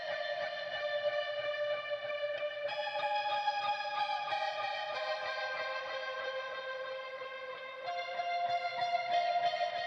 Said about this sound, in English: the next sound I added was this guitar that I found off Splice.